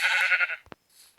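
A sheep bleats once in a video game, a loud, close, wavering cry lasting about half a second, followed by a couple of short clicks and a faint hiss.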